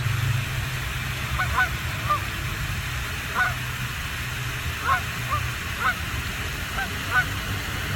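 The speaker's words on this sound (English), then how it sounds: "Hear the geese squawking in the distance." Geese honk in the distance, a scattered series of calls over a steady low rumble and background noise.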